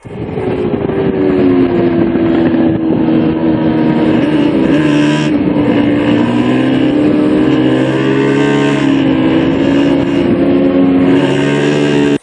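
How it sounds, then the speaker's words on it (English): A vehicle engine drones loudly and continuously, its pitch rising and falling slightly as the throttle is eased on and off. "are you getting on and off the throttle?"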